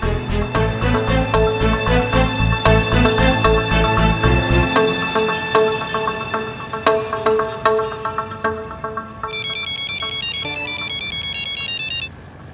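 A loud electronic ringtone plays a bouncy melody with a bass beat, then continues as a brighter repeating chime before stopping abruptly.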